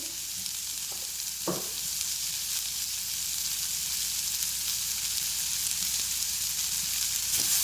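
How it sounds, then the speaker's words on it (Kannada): Vegetables roast in hot oil in a pan with a steady, soft sizzle throughout, broken by a brief scrape of stirring early on. "ಸೊ ಇದು ಆಯಿಲ್ನಲ್ಲೇ ಸ್ವಲ್ಪ ಕ್ರಂಚಿ ಆಗೋವರೆಗೂ ನಾನು ಇದನ್ನು ರೋಸ್ಟ್ ಮಾಡ್ತೀನಿ"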